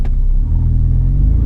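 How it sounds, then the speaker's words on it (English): A manual-transmission car engine hums low and steady as the clutch bites and gas is applied, a loud close rumble holding throughout with no talk over it. "give it some gas as I let off the clutch"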